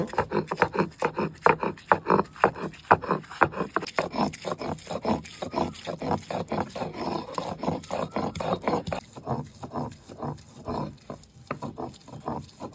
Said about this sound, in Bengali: ভেজে রাখা কাঁঠাল পেঁয়াজ শুকনো লঙ্কা রসুন পাটাতে দিয়ে পাতলা করে বেটে নেব